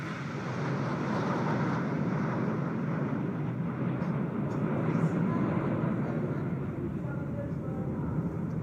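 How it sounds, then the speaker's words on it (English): Six Jaguar fighter jets in formation flying past at India's 2023 Republic Day parade in New Delhi, a steady broad roar that stays even and fairly distant throughout. "अमृत formation, जिसमें 6 Jaguar 750 kilometre की रफ्तार से उड़ते हुए"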